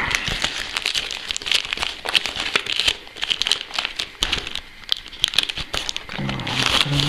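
Parcel packaging from an eBay order, shipped by Priority Mail and holding a Citizen Eco-Drive titanium watch, is torn and crinkled open up close, with steady rustling and ripping throughout and no talk.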